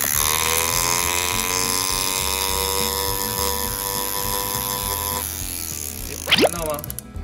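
A Foredom H.15 handpiece fitted with an eight-faceted diamond bit, pressed straight down on a metal sheet to texture it, gives a steady high motor whine with grinding buzz, close and loud, then cuts off sharply near the end.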